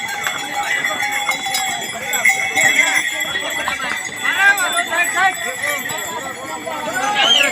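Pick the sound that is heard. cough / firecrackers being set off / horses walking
horses walking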